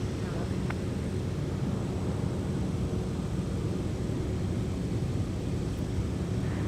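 Delta 152 Heavy, an airliner, on its takeoff roll on runway 12 right, a steady broadband roar of engines at constant loudness from a distance, with a voice faintly under it.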